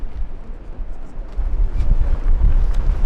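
Strong wind buffets the microphone at an outdoor quidditch match, a low rumbling gusty roar that swells and grows louder in the second half.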